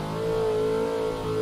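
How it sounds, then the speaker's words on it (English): BMW E36 drift car, nicknamed Danger Z36, with its engine holding a steady loud drone at track speed, a brief dip in level near the end, no voices. "Definitely love how this car sounds."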